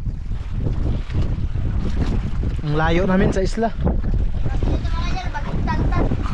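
Strong wind and rough waves buffet a fishing boat far out at sea during a typhoon with rain, a steady loud roar of wind and water running throughout while people talk over it.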